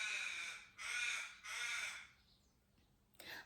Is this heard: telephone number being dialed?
no